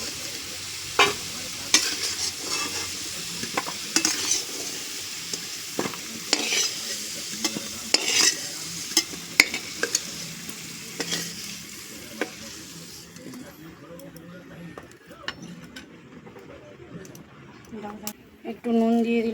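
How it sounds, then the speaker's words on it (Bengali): Potatoes fry in a pan with steady sizzling while a spatula stirs and scrapes them in repeated strokes, the sizzle thinning toward the end. "আলু লাল লাল করে ভাজা হয়ে গেছে"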